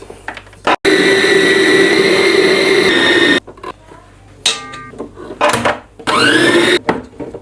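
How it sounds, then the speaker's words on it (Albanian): A food processor works 500 grams of flour and 375 ml of water into bread dough, giving a loud steady motor whir for a few seconds, then stopping and restarting in shorter bursts. "do të hedh brenda aty 500 gram miell, 375 ml ujë dhe do ta përpunoj"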